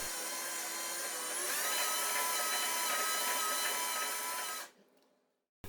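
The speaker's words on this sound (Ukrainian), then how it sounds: "Процес намотки можна механізувати, використавши шуруповерт чи іншу якусь дриль." A cordless screwdriver spinning to wind wire onto a homemade Tesla coil secondary, a steady close motor whine with rising pitch that runs about four and a half seconds, then stops abruptly into near silence.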